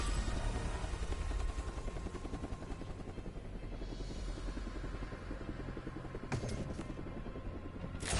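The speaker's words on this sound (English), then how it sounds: "Alright, let's call in the helo" A helicopter arrives in the Returnal video game with a loud, continuous rotor whir and engine roar that holds steady throughout, and a couple of sharp clanks come near the end.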